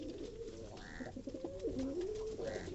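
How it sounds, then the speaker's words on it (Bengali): Pigeons coo repeatedly in soft, rolling calls close by, overheating in hot weather with the whole flock gathered outside; the cooing runs steadily throughout with light background noise and no talk. "দেখেন কবুতরগুলো"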